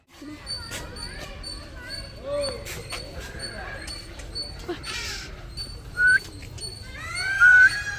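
Birds at a bird house chirp and whistle in short, scattered calls, some near and sharp, over a soft background of voices and outdoor ambience.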